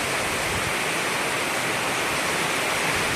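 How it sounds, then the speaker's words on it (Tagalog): Steady heavy rain pours with rushing, flowing water, a dense constant hiss that fills the whole stretch without a break and has no voices over it. "umulan na"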